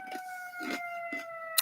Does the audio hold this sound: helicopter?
no